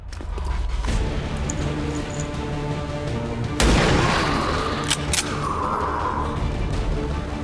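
A sharpshooter's rifle fires in XCOM 2: one sharp, loud blast followed by a long rumbling decay, then a second crack shortly after, over a steady game music bed.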